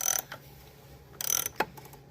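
A socket wrench with an extension snugs an oil filter cap on a 2015 Chevy Cruze, giving a few short ratcheting bursts and a sharp click, close and fairly quiet, with no voices.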